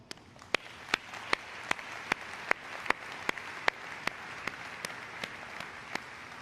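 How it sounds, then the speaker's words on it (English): Applause at a BMW plant gathering in Spartanburg, honoring the plant's associates: sharp, evenly spaced claps stand out above a soft, steady crowd wash, heard at a moderate distance. "our associates deserve a big round of applause"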